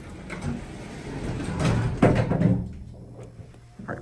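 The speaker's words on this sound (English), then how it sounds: "Your original Otis door interlock." An original Otis door interlock on an Otis Lexan traction elevator door, heard as a close mechanical clunk followed by sliding and rattling as the door travels shut, with a sharper knock near the end.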